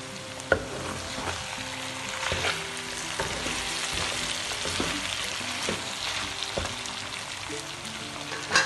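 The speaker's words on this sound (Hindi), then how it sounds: "बिल्कुल लो फ्लेम है और इस पर मैं इसे फ्राई कर रही हूँ" Mutton karahi fries on a low flame in a Pakistani home kitchen, giving a steady close sizzle broken by scattered clicks and scrapes as the pieces are stirred.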